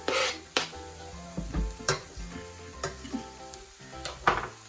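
Smashed garlic dumped into a hot pan, a soft sizzle broken by several sharp scrapes and clinks of a utensil against the pan, fairly quiet and close.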